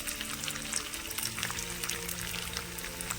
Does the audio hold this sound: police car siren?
no